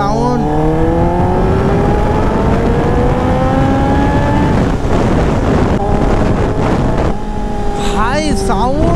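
A Kawasaki ZX sport motorcycle engine revs up and down on a city street, rising pitch sweeps repeating loudly and close, with wind buffeting the microphone and traffic noise around.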